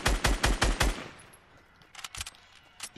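Video game gunfire cracks out in a rapid burst of about five shots, followed by a few scattered fainter shots.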